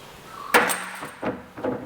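A hammer strikes car tail shaft parts with sharp metallic clanks, one loud hit followed by two lighter ones spaced irregularly, close by in a workshop.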